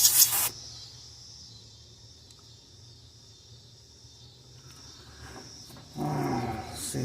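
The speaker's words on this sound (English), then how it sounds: "So I'm just going to dry this just with my airbrush real quick." An airbrush blows air to dry paint on a largemouth bass fishing lure, with short bursts of loud, close hissing at the start and again near the end and quieter handling noise in between.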